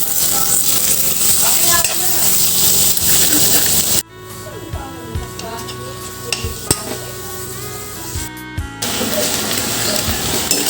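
Ground pork sizzles loudly in a pan for ginisang ube, with steady frying hiss and scraping stirring strokes; after a brief cut the sizzle softens beneath clinks of a utensil against the pan.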